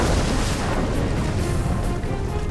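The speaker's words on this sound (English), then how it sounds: "We see the water explode." Dynamite thrown into the surf detonates in the water near a surfer, a loud sustained roar of blast and churning spray filling the whole moment.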